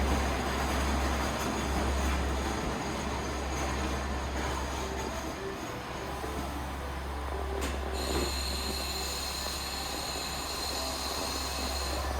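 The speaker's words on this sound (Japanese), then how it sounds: "JR 氷見線氷見行きの列車が到着します" A JR Himi Line train arriving at a station rumbles steadily with low engine drone and rolling noise, a continuous loud hum with a brief shift partway through, no voices.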